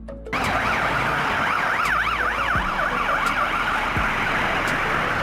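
A Swedish police car siren, a rapid steady hi-lo warble, begins abruptly and runs loud and continuous above road noise with no talk.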